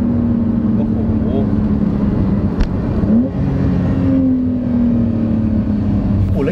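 Porsche 992 with a PDK gearbox driving at normal pace, a steady engine and road drone with shifting engine tones, heard from inside the cabin under ongoing talk.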